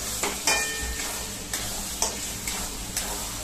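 Pav bhaji vegetables being stirred and mashed in a pan, with close, steady scraping and soft sizzling, marked by several sharp spatula knocks against the pan at roughly half-second intervals.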